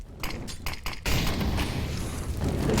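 A molotov incendiary bursting in Counter-Strike: a few sharp glassy clicks and thuds, then a sudden loud, sustained roaring whoosh of fire that holds steady to the end.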